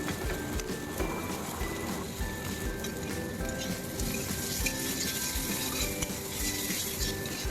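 Onion and panch phoron fry together in oil left over from frying fish, a fairly quiet sizzle under frequent scraping and clinking of a spoon against the pan.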